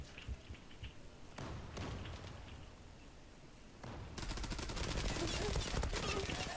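MPX submachine gun with a Kabus-pattern skin firing in the shooter game Zula, sharp bursts and rapid automatic volleys growing denser and louder toward the end.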